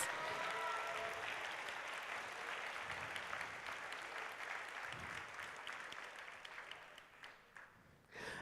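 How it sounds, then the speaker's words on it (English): Audience at a robotics event applauds its mentors and coaches, a dense, steady wash of clapping from a large crowd that holds loud and then gradually thins and fades toward the end. "can we get a round of applause and a huge thank you for your mentors and coaches?"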